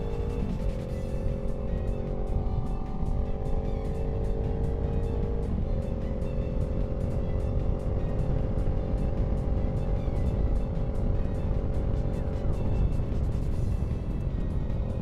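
A motorcycle fitted with an eBay aftermarket exhaust drones loudly and continuously while riding, its engine note rising and shifting through rev-matched downshifts, close and without speech.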